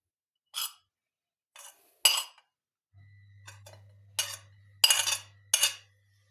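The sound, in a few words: mixing liver salad with a fork, cutlery clinking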